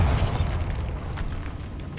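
Bombarda spell detonating in Hogwarts Legacy, a single heavy low boom that hits at once and rumbles away over two seconds.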